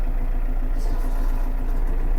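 A Kubota three-cylinder, 12-horsepower mini tractor idles steadily at close range, a low even engine rumble with no voices over it.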